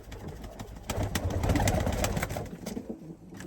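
Pigeons coo steadily inside an aviary loft, with soft overlapping calls close by and a light background rustle.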